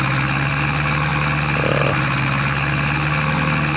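A tractor engine in the video game Hinterland drones loudly and steadily with a low, even chug, straining in one brief spot partway through.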